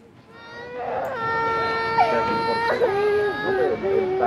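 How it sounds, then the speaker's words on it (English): Little children cry and whimper in a news report, wailing and sobbing with rising and breaking pitch, close and loud without pause, mixed with other voices and background noise. "We're at the point of little kids crying so that the president can get his political win in the wall."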